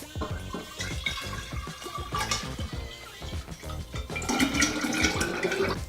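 Pickle juice pours and splashes close by in a steady stream into a cocktail shaker, with a busier gurgling toward the end.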